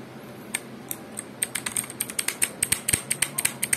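Keys on a Redragon K571 mechanical gaming keyboard clack under typing, with some keycaps removed. Sharp, bright clicks start sparse and quicken into a fast, fairly loud burst, close up with no talking.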